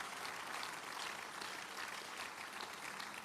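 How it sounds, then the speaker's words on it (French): Church congregation clapping during a service, a continuous, even patter of many hands heard at a distance and fairly soft. "Give the Lord a big hand of praise."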